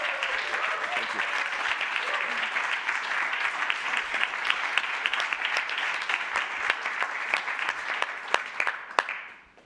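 A Davos World Economic Forum audience welcomes Hilda Schwab with dense, sustained applause that carries on evenly for several seconds before cutting off.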